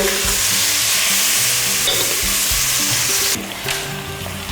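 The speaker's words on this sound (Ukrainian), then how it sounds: "І скільки по часу нам смажити ребра?" Pork ribs fry in a hot pan with a loud, continuous sizzle and crackle heard up close, briefly easing near the end.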